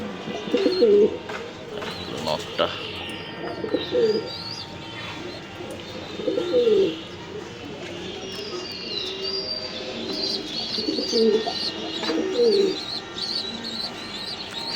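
A breeding pair of pigeons with a Kitel male coos in repeated throaty bouts close by, alongside faint chirps and soft background noise.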